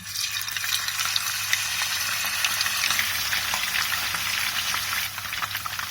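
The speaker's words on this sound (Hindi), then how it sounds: "ऑयल गरम हो गया, अब हम इसमें मछली डाल देंगे।" Fish fries in hot oil in a pan for a fish curry, a loud continuous crackling sizzle up close with scattered pops, no talking.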